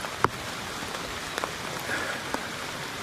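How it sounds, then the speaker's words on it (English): Rain falling outdoors over a wildlife pond, heard from a hunting stand as a steady soft hiss with a few scattered faint drop taps. "it's raining"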